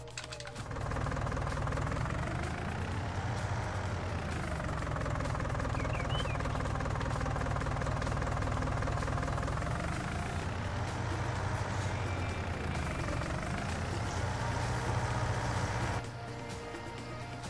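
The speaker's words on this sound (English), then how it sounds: "And there's the engine actually idling up like someone was mentioning yesterday." A farm vehicle's engine in Farming Simulator 19 drones steadily at idle, its pitch sagging and rising again a couple of times, before the level drops slightly near the end.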